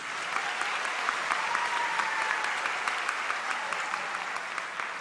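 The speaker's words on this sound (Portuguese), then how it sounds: "uma salva de palmas para Jesus" A congregation at a Portuguese-language church service breaks into sustained, dense applause, loud and steady with many overlapping claps throughout, and no talking over it.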